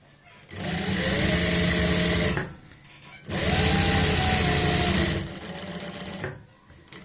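A sewing machine stitches lace onto a neck design with anchor thread in two loud, close bursts of about two seconds each, separated by a short pause. A softer, slower run of stitching follows at the end.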